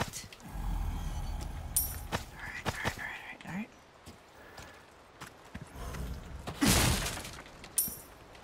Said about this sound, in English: Wakey wakey, I'm just smashing everything up